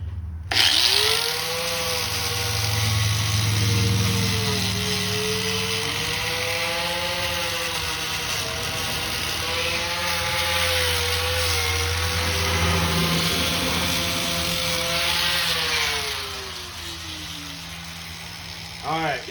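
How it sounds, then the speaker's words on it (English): A powered wire wheel scours rust off a tie rod nut on a VW Jetta, a loud, steady abrasive whine with a wavering tone that runs almost unbroken for about fifteen seconds before tapering off. "we've got a wire wheel right here. Let's plug her in. Bada boom. Get some of that rust off of there."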